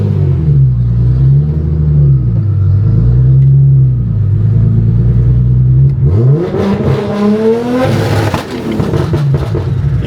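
Nissan R33 GT-R sedan engine on a dyno, droning loudly at steady revs and then climbing sharply through a rev sweep, ending in a brief hissing whoosh of the dump valve.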